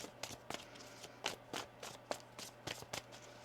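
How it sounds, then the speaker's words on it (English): Tarot cards shuffled by hand at close range, a quiet series of about a dozen crisp riffling snaps in an irregular rhythm over a faint low hum. "One more shuffle here."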